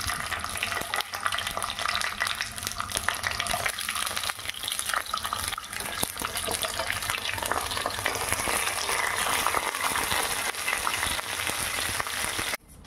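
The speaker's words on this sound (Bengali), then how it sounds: "মাছের মাথাগুলো খুব ভালো করে ভেজে নেব" Fish heads frying in hot mustard oil, a dense, continuous crackling sizzle that stays loud and even throughout, cutting off abruptly at the end.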